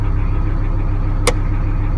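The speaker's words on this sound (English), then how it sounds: "It knows the engine's running." Vehicle engine idling steadily with a low, continuous rumble throughout, as a leisure battery with split charging is installed; one brief sharp click lands partway through.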